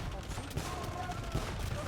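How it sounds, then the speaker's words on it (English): Organ guns firing in the real-time strategy game Age of Empires, a dense crackling volley of gunfire layered over battle noise, moderately loud and continuous throughout. "Organ guns from Syscon"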